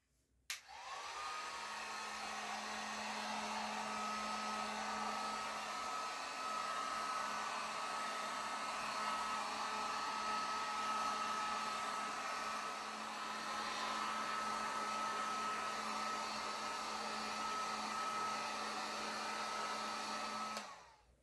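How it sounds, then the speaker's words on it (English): Heat gun blowing hot air over an acrylic paint pour, a steady whirring fan roar with a constant whine that starts abruptly, holds evenly for about twenty seconds and cuts off. "my heart's saying heat gun instead of torch"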